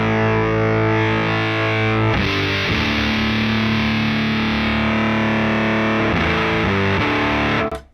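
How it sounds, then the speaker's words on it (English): Thick, saturated electric guitar fuzz tone from the Neural DSP Archetype Gojira plugin, sustained chords ringing loud and dense with a couple of chord changes, cutting off abruptly at the end. "Next, we've got a fuzz pedal."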